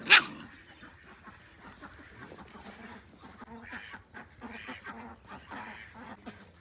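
A dog in a yard with rabbits and ducks gives a sharp bark at the start, followed by softer yips and whimpers over a low background rumble.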